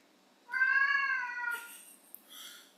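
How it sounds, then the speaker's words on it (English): A cat lets out one long, drawn-out meow close by and fairly loud, followed by faint rustling and small movements indoors. "Just waiting for my cat to get settled."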